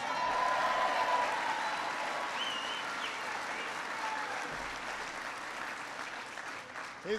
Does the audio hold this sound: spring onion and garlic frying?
no